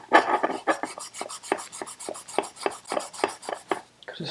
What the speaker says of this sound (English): I'm just going to Scotch-Brite that mating surface